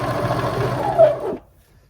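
Close sewing machine running a zigzag stitch down the side of jeans, a steady buzzing whir that slows and stops near the end, followed by near silence.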